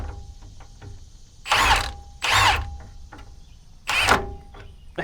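A hand ratchet spins a stuck nut free on a lifted Ford Bronco, heard as three separate bursts of rapid clicking, each lasting about half a second, up close over a low background hum.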